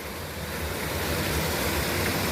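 A waterfall at Ranikot Fort in Sindh roars as a dense, steady wash of rushing water, loud and close, with no break across the short stretch.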